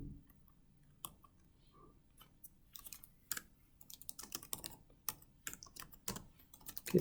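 Someone types git commands on a computer keyboard: quiet, irregular key clicks and taps in uneven bursts that grow busier toward the end, with no talking.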